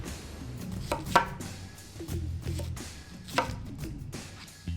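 A homemade kitchen knife cuts through onion and potato on a board: irregular close thuds and chops, a few sharp louder strikes among softer slicing knocks.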